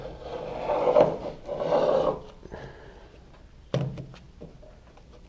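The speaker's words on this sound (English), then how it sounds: "now we're just going to trim off the excess." A classic VW Beetle's multi-piece headliner fabric being trimmed, with two rasping cutting strokes followed by softer scraping and a sharp knock, close and alone.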